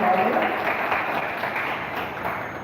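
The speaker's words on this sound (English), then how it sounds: "please give a big clap for sir" An audience claps for a lecturer at an institute event, a broad, continuous patter of many hands that holds at moderate loudness before easing slightly.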